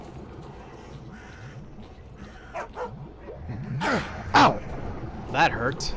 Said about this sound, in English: That was a dog I just heard.